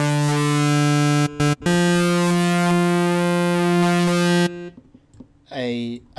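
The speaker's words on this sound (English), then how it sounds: "It's frequency modulation, so." A synthesizer oscillator driven with frequency modulation produces a loud, buzzing, harmonically dense tone with heavy distortion, held for several seconds with two brief dropouts, then giving way to sparse clicks and a short pitch-bending sweep.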